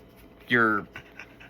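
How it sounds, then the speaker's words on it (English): A dog gives one short, close burst of panting with a whiny edge, lasting about a third of a second, followed by a few soft breathy puffs in an otherwise quiet room. "Say hi to my dog."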